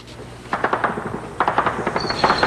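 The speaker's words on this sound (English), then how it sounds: "Anyone caught in the gunfire ran for cover." Rapid gunfire during street fighting between government troops and Sandinista guerrillas in Managua, Nicaragua, near the US Embassy: repeated loud cracks and bursts in quick succession, echoing and continuous with short gaps.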